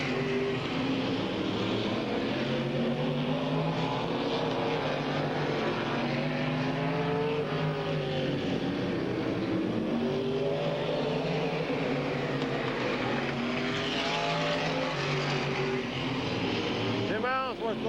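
Race cars roar around the oval at Midvale Speedway, with the 05 car in the pack, a dense continuous engine drone and shifting pitch as cars pass, under steady announcer commentary.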